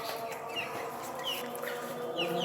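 Brahma parent hens cluck softly at a short distance, with scattered high chirps over a steady background murmur.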